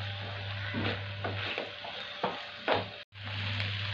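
Pasta ingredients and vegetables stirred and mixed in a pan, a scraping, sizzling stir with several distinct strokes over a steady low hum, close and moderately loud.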